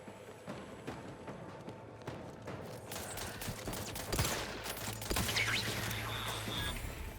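Rifle gunfire in The Outer Worlds 2, a sci-fi shooter game, comes as a dense run of sharp shots layered with busy combat effects. It builds louder in the second half, with no talk.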